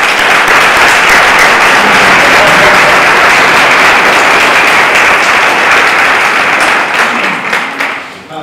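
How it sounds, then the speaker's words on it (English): Wedding guests applauding after a poem reading, loud close sustained clapping from a crowd that holds steady for most of eight seconds before tapering off. "Take your round of applause."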